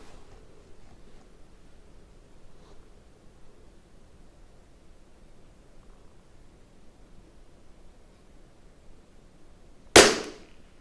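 A single sharp gunshot from a Tikka T1x .22 LR rimfire rifle cracks out near the end, loud and close, after a stretch of quiet outdoor background hiss.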